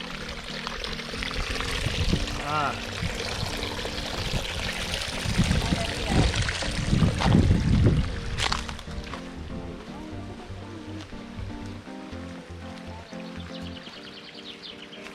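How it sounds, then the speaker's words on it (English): A small mountain stream in Paradise Valley in Morocco's Atlas Mountains pours and trickles steadily nearby, with a brief swell of splashing in the middle and a short vocal exclamation. "Look at this little river, a little oasis of water that's coming down."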